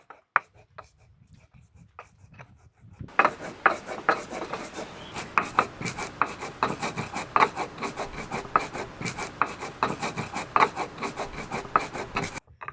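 After a quiet start, a steady rhythmic pounding and scraping of spices being ground in a mortar with a pestle for mushroom rendang, close and continuous.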